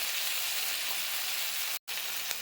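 Eggplant, tomato and spices with turmeric frying in oil in a pan, giving a steady close sizzle that cuts out for a moment near the end.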